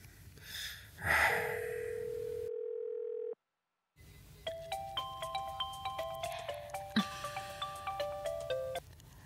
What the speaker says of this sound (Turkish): Telefoning band ko'rsatdi.